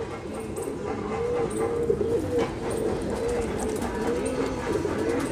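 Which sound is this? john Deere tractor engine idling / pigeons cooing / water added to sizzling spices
pigeons cooing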